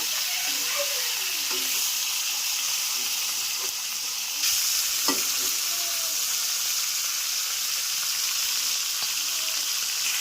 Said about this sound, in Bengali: মাছটা একটু কড়া করে ভেজে নিব